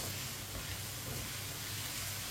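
Spices for a raw mango and potato sabzi fry gently in a pan over low heat, giving a soft, even, continuous sizzle with no talking.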